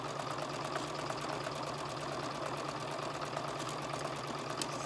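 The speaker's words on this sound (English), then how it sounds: "you're gonna just sew right down, okay? Locking that stitch and sewing down." A sewing machine stitching down a seam and locking the stitch, with a steady, continuous mechanical hum and rapid needle rhythm running at an even pace without talk.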